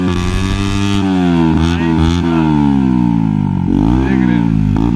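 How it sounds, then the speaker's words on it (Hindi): A Bajaj Pulsar NS 125 motorcycle fitted with a loud aftermarket Akrapovic exhaust, idling and revving steadily close by with a deep, continuous engine drone throughout. "देखो इसमें एक्राफोबिक का एग्जॉस्ट लगा हुआ है"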